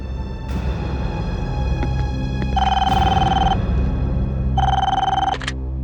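A telephone rings in loud, sharp electronic bursts, two long rings with short pauses between them, over a constant low background hum with no talking.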